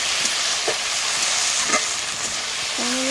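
Ginger-garlic paste being stir-fried, a loud continuous sizzle and hiss with occasional scraping strokes of a spoon in the pan, ending on a brief tonal squeak.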